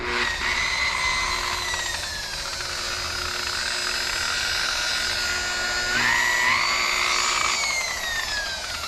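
A boat detailing polisher runs continuously up close, a loud steady motor whine that shifts pitch a few times as the speed changes, with no talking.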